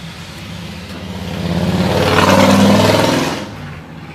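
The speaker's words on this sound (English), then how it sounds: "I swear there must be a fucking street race going on" A vehicle passes on a nearby street, its engine swelling into a loud rumbling rev before fading away, the kind of sound a pickup truck makes during a street race.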